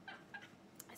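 A cat meows twice in quick succession, faint and fairly close, followed by a brief higher-pitched mew near the end.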